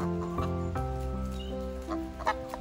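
A noisy flock of geese on an old mill farm in Cornwall honks continuously and loudly up close, with overlapping calls.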